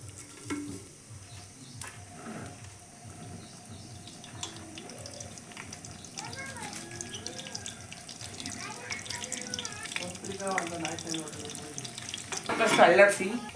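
Whole spices frying in hot oil for chicken biryani in a home kitchen, a soft sizzle with stirring and clinks, rising toward the end, under occasional talk.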